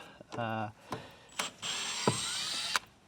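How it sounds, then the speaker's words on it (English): Screws are driven out with a Phillips screwdriver inside a Landcruiser 70 series Troop Carrier door, giving short whirring bursts, a longer high whine and a few sharp clicks, close and alone. "So there's 4 screws here, so just remove those with the Phillips."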